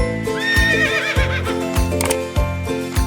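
A horse whinnies with a high, shaky neigh near the start, followed by clip-clop hoofbeats over a steady, loud musical backing.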